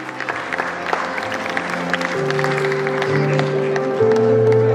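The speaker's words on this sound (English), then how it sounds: "Give a big round of applause for him." Parents and students applaud at a school prize distribution ceremony, a steady clatter of many hands, fairly close and continuous, with background music tones sustained underneath.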